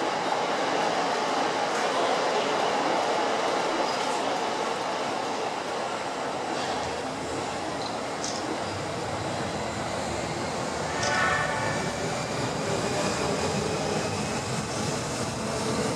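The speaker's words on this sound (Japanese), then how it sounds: "臨時特急列車が発車をいたします。" A Seibu Railway 10000 series Red Arrow limited express train departs Seibu-Shinjuku station, rumbling and rolling steadily with continuous mechanical noise, building slightly as it moves off, a few faint squeals on top.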